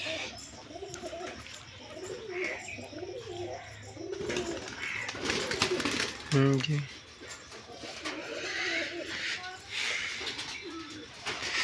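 Giribaz pigeons cooing close by in repeated soft rolling calls, with other birds chirping and someone talking intermittently over them.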